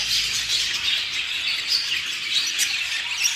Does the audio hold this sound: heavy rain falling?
no